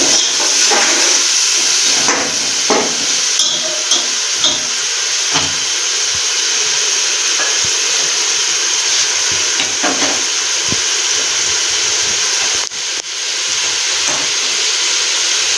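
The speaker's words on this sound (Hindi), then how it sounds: "अभी हम इसको बिल्कुल सही मिक्स करेंगे मसाले सारे, ताकि टमाटर आपस में बिल्कुल मिक्स हो जाए।" Biryani masala with tomatoes sizzles and hisses steadily in a hot pan, close and loud, with intermittent scraping clicks of stirring throughout.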